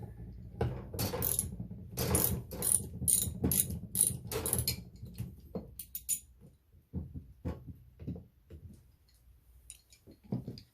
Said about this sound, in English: in order to get the tie rod ends off, you have to take the clamps off first.